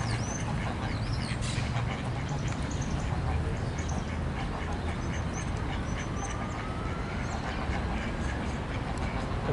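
Ducks quack now and then at a spring duck pond, faint and scattered over steady outdoor background noise.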